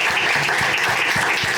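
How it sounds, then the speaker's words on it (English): An audience at a film screening day breaks into a huge round of applause, dense continuous clapping close and loud for the whole stretch, with no talking over it. "A huge round of applause for Anuj."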